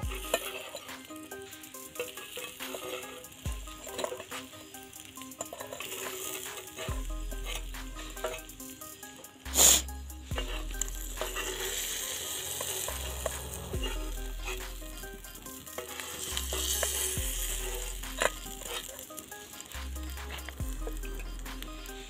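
Chicken pieces sizzle steadily in hot oil in a pan, a continuous crackling fry punctuated by clinks of a utensil against the pan and a sharp clatter partway through, with occasional patter of stirring.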